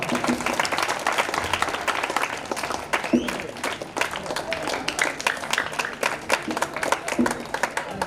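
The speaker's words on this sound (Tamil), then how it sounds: "ஒரு பலத்த கைதட்டல் கொடுக்கலாம்" Enthusiastic audience applause at a school award ceremony honouring top mark scorers, a dense, steady clatter of many hands clapping that carries on for several seconds, with crowd noise mixed in.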